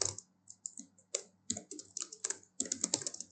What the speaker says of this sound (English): there's a lot of keyboard noises there, because my mic is near my keyboard